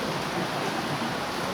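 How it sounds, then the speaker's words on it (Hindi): Steady rain falls during a dawn spiritual gathering in Sikar, a continuous wash of broadband hiss without distinct drops and with no one speaking. "लेकिन बरसात हो रही है तो भीग जाएंगे"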